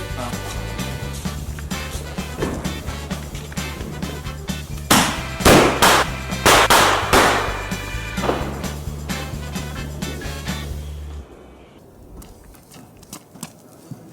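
Shakarkandi firecrackers bursting during Diwali, a cluster of sharp loud bangs and crackles in the middle of a steady background din, some close and some farther off, ending in quieter ambience.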